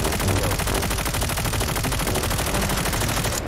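Gunfire in Call of Duty Mobile battle royale gameplay: dense, continuous automatic weapon fire from several guns at once, loud and close, with no break.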